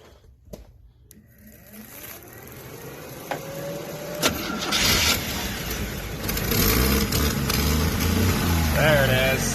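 A Chevy II Nova's engine cranks after a few clicks and fuel pump whirring, then catches and settles into a loud, rough idle close by, with a rising whine near the end.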